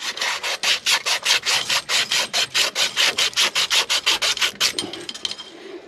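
A small hole is drilled by hand into the bottom of a light, a dry rhythmic scraping of roughly twenty quick, even strokes that slows and fades near the end, close and fairly loud with no voices.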